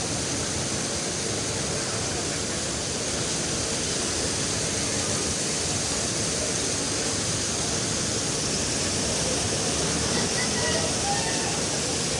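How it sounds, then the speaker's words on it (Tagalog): Water gushes steadily from large drainage hoses pumping out a flooded market, a dense, continuous roar that fills the scene without letup for the whole stretch. "bali ito yung mga hose na to na malalaki yun yung maglalabas ng tubig."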